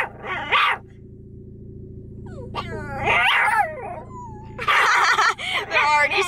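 Several dogs bark, yip and whimper in excited bursts at close range, with quieter stretches between the louder outbursts.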